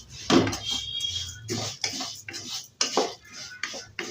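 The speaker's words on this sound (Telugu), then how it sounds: "నెయ్యిలో వేసుకుంటే బాగుంటుంది కదా, అందుకని ఫ్రై చేసుకుందాం" Spoon scraping and clinking against a pan while vermicelli is fried in ghee, heard as close, irregular metallic taps and scrapes in a loose stirring rhythm.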